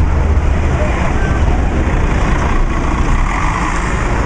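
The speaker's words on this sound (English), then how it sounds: "Yet another bendy bus coming along here." A long articulated bendy bus rolls past on Oxford Street in London, a loud, close, steady engine and road roar filling the scene amid continuous traffic noise.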